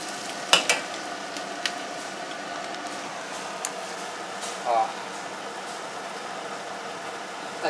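Butter prawns frying in a pan, a faint steady sizzle with a few sharp utensil clinks and taps, heard under quiet talk.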